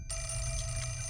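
A telephone ringing in the video game Fatal Frame: Mask of the Lunar Eclipse, a steady electronic ring that starts suddenly and holds over a low rumbling ambience, with no voices.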